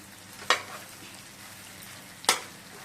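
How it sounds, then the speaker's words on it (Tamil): Eggplant frying in oil in a pan, a soft low sizzle with two brief sharp stirring scrapes, quiet and close. "எண்ணெயிலேயே நல்லா வதங்கிடுச்சு."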